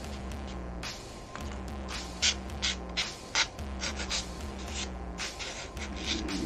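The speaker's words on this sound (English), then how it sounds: "So rough sandpaper, boy, that gets those edges down fast." Rough sandpaper is scrubbed against the edges of a foam rock, a close, continuous scratchy rasp with uneven bursts of quick strokes, and no talking.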